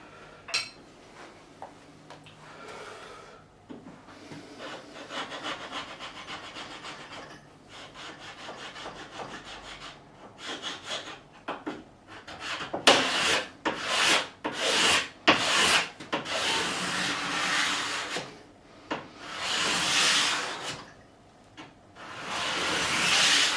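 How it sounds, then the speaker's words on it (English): Close wood scraping in repeated strokes, rasping bursts that start sparse and quiet and grow louder and more rhythmic, with pauses between passes. "A little bit more, I think a little bit more scraping."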